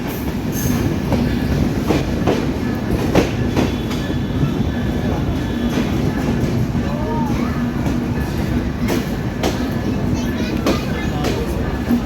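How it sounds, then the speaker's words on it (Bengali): Sundarban Express train pulling into Chuadanga station in Bangladesh, a steady loud rumble of rolling wagons with rhythmic wheel clatter and occasional faint squeals, continuous throughout with some indistinct voices in the background. "সুন্দরবন এক্সপ্রেস চুয়াডাঙ্গা প্রবেশ করলো"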